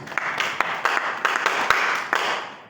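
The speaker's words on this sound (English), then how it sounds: "Please clap for yourself." An audience claps briefly in a hall, a modest patter of hands with scattered louder individual claps, fairly close and without voices.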